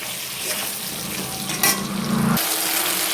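Ginger, chilli and tomato masala paste fries in a pan with a steady close sizzle, then a brief stir and a louder burst of frying near the end.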